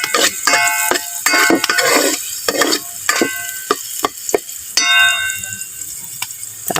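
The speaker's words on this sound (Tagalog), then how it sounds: "Haluin po muna natin ang bawang." Garlic stirred and sautéed in a pan, with a close, steady crackling sizzle broken by repeated scraping strokes of a utensil against the pan.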